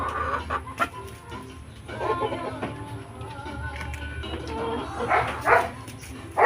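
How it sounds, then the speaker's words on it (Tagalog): Chickens cluck and squawk in short bursts close by, with a few louder calls standing out over a low, steady background hum. "Nailan na lang ang manok ni nanay oh"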